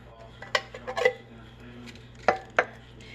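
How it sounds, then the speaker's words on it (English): Canned diced tomatoes and beef broth go into a soup pot, heard as a few sharp metallic clanks and knocks of cans against the pot rim, close and fairly loud over a low steady kitchen hum. "I'm going to put the large can of diced tomatoes in the pot. My can of beef broth."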